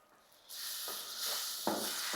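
Tomato paste hits hot fried spices in a pan for potato curry and breaks into a sudden steady sizzle, with a few sharper hissing spurts as it is stirred.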